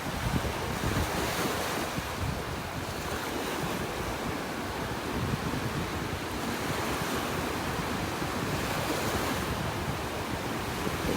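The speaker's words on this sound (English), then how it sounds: "But with these waves, it's not going to be extremely low." Ocean surf washing onto a beach near low tide in North Naples, Florida, a steady, loud roar of breaking waves mixed with gusty wind buffeting the microphone, with no voices.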